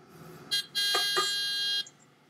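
A tractor horn in a farming video game sounds a short beep and then a longer sustained honk, fairly loud against a quiet background.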